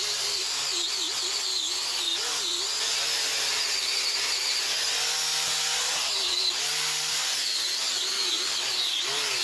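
Steady, loud whine of an abrasive power tool, likely a grinder or wire wheel, stripping old paint and rust off KAMAZ truck parts, running continuously with slight pitch wavers and no talk over it.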